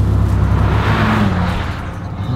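A Viper stuck in limp mode making a slow flyby, a loud steady engine drone with low rumbling tones that swells and then gradually fades as it passes.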